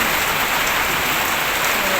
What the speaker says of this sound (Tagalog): Umuulan na naman sa bubong ng bahay.